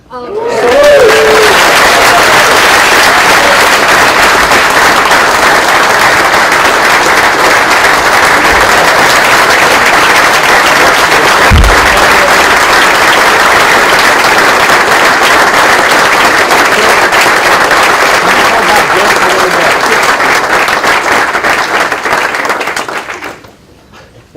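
A large audience at an awards speech event bursts into sustained, loud applause with cheering and some laughter, a dense wall of clapping that holds steady for over twenty seconds before fading out.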